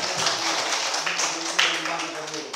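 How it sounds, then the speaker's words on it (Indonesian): Children in a classroom clap their hands together in a scattered burst of overlapping claps, with voices talking over them. "Tepuk tangan dulu buat Nona."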